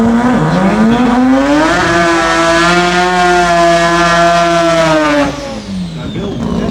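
Big single-turbo drag race car at the Garrett Brisbane Jamboree launching down the strip, a loud, close engine note whose pitch rises sharply and holds, then drops away as it pulls off.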